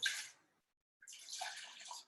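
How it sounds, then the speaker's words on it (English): Cold tap water poured from a cup into a pot, two short splashing pours separated by a brief pause, close and soft. "So we're going to add a cup and a half of water to this pot."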